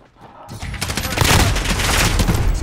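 A shotgun blast in the video game Call of Duty Modern Warfare multiplayer erupts after a quiet moment into a loud, sustained burst of gunfire noise that carries on to the end.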